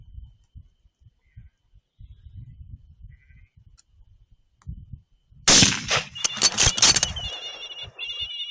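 A mob of sheep bleats in a burst of overlapping, fairly close calls after a quiet stretch of low rustling, the bleats repeating over several seconds.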